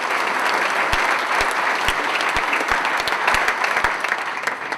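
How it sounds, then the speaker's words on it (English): Dense, steady audience applause fills a hall of fame induction ceremony. It stays loud and even for about five seconds, with sharp individual claps standing out and no talk over it. "He deserves a round of applause even though he's not here."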